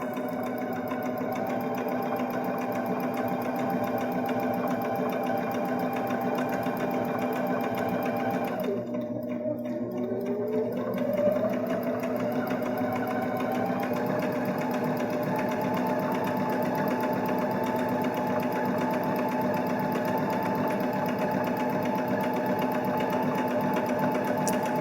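A Baby Lock Jazz II sewing machine runs steadily while sewing knit fabric, a continuous close mechanical whir that breaks briefly with a short pause and pitch sweep around the middle, then settles back to an even hum.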